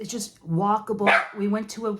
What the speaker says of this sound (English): There's a UPS man outside, so my dogs go crazy.